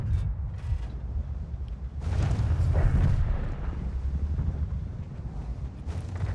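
Tank cannon fire and rumbling in the World of Tanks game: a booming, explosive burst around the middle over a constant low engine drone, with a few sharper cracks near the start and end.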